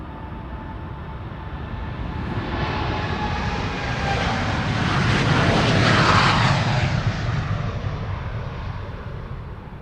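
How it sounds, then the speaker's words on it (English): A KLM Boeing 787-10 Dreamliner departs Amsterdam Schiphol for New York JFK, its engine roar swelling from a distance to a loud peak overhead around the middle, then easing off as it passes, with no voices. "And this is KLM flight 641 going to New York JFK. 787-10 Dreamliner."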